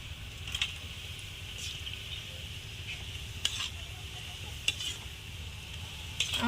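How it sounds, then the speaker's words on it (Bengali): Batter-coated vegetable chops fry in oil until reddish, a soft continuous sizzle broken by a few sharp clicks of a utensil against the pan, with no speech. "আমি এইভাবে লাল লাল করে সবগুলো ভেজে নেবো"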